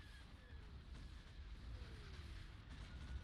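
Space-battle explosions from the Empire at War strategy game rumble on continuously as a dense, muffled bed of distant booms and low blasts, steady in loudness, with no talking.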